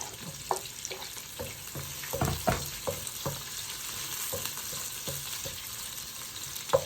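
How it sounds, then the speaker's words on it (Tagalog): Garlic sizzles and fries in a hot pan for a Filipino bitter gourd (ampalaya) dish, with onion caramelizing too, and a few sharp stirring scrapes and clinks sound over the steady crackle. No one speaks. "Caramelize ko yung bawang na at saka yung onion."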